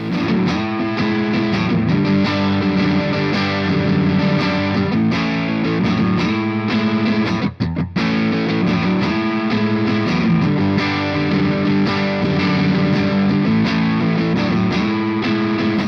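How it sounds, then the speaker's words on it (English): Electric guitar plays through an overdriven JOYO Bantamp XL Tweedy 20-watt tube amp, sustained chords ringing warm and loud with no break. "Other than that, it is purely guitar amp tones."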